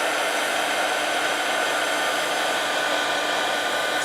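A hair dryer blows steadily at close range over a wet watercolor painting of trees, a loud, constant whooshing hiss with no talking.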